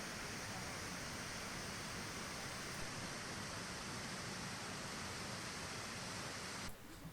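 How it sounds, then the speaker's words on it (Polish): The Wodogrzmoty Mickiewicza waterfalls on the Roztoka stream in the Tatra mountains give a steady, even rush of falling water, a fairly soft hiss-like roar heard alone and unbroken throughout. "Warto zawiesić oko na chwilę i posłuchać szumu wody."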